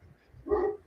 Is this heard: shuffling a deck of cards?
no